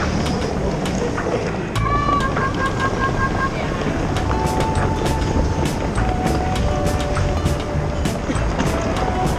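Loud rumbling train interior noise in Amsterdam with rattling and clacking, a constant roar throughout with brief tonal squeals and faint voices in the background.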